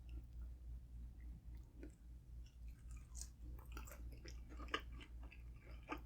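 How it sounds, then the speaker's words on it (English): Close-up chewing of fried chicken skin from El Pollo Loco, a faint series of soft crunches and wet bites over a low background hum, with no talking. "I'm gonna eat the skin first."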